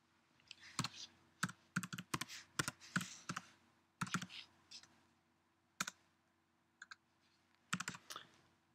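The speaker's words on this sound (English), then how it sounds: "I'll type in Bloodworth" Computer keyboard typing in a quiet room: close, crisp clusters of key clicks in irregular bursts with short pauses between them over a faint steady hum.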